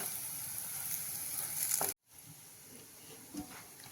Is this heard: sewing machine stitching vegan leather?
no